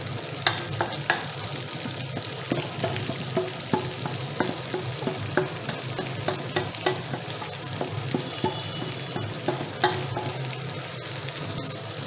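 Rice stirred and fried in a pan for Bengali basanti pulao, a steady close sizzle with frequent scraping and clinking stir strokes throughout, no talking.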